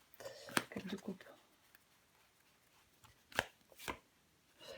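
A tarot card laid down over another card, giving a few soft, close papery taps and slides in quick clusters, then two sharper isolated flicks after a pause, in an otherwise quiet room.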